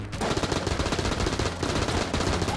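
Rapid automatic gunfire from a not particularly accurate gun in the Enter the Gungeon video game, a fast unbroken burst of shots close and loud throughout.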